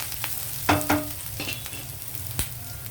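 Onions sizzle steadily in hot oil in a pan, with a few sharp clinks and scrapes of a stirring spoon against the pan near the start.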